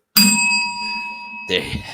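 A single bright bell ding rings out and sustains for over a second, then a voice briefly cuts in as it fades.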